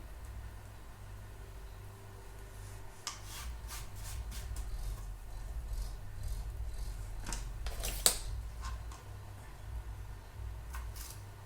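Fresh coriander leaves being finely chopped with a knife for upma. Scattered sharp cuts come in irregular bursts, a few louder than the rest, over a low steady background hum, with no talking.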